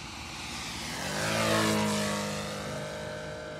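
A 1/5 scale RC Focke-Wulf 190 D9 model airplane passes overhead with flaps down, its propeller engine drone swelling as it nears, then fading while the pitch drops, faint and distant.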